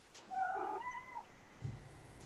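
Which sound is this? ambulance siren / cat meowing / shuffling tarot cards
cat meowing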